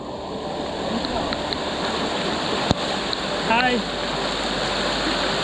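Water rushing at Penchalakona waterfall in Andhra Pradesh while rain falls: a constant, full hiss of flowing water fills the whole stretch, with a short spoken greeting and a few faint voices over it.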